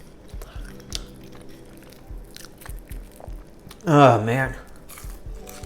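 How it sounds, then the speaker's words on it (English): Crunchy baked Checkers/Rally's seasoned fries being bitten and chewed close up, with a loud burst of crunching and chewing midway, while someone talks around it. "I'm eating 3 at a time now."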